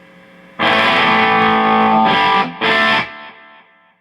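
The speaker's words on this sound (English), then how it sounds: "Alright, and here's some pulsar delay." Distorted electric guitar through a pulsar delay: a sustained chord followed by two quick hits, with repeats trailing off into a soft decay, played loud with no voices.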